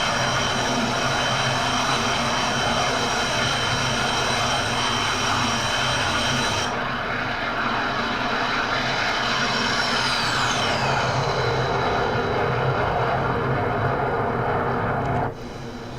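Twin engines of a Su-27 fighter jet in a flight simulator game roar in a dense, continuous broadband whine, with a high tone sweeping downward midway and the sound dropping abruptly near the end.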